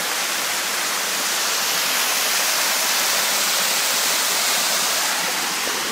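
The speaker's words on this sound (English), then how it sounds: "There's a nice little waterfall here." A small waterfall on a trail in the Columbia River Gorge roars with a steady, broad rush of falling water, constant and close with no break throughout.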